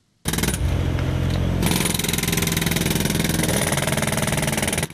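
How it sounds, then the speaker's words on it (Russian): Loud jackhammer pounding pavement during night pothole repair on a city street, a steady rapid hammering with a running engine underneath, close and continuous throughout. "Без лопаты отбойного молотка не обходится ни один ямочный ремонт."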